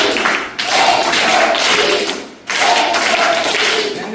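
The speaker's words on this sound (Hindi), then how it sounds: "तो एक बार 3-3 के राउंड में हम लोग ताली बजाएंगे" Classroom applause from a group of children, a dense broadband burst of many hands that runs for about two seconds, dips briefly, then swells again into a second loud round.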